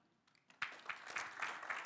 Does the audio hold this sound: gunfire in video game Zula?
no